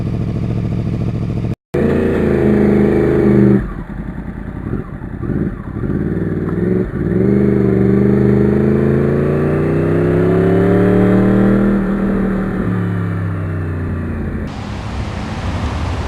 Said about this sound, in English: you can see the moisture burning off as we let the bike warm up